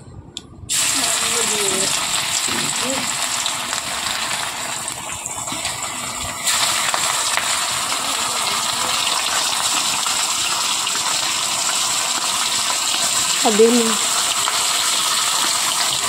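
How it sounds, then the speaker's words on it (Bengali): Fish fries in hot oil, a steady close hiss and sizzle running throughout, with faint voices heard briefly in the background. "এই যে মাছ ভাজা করছে"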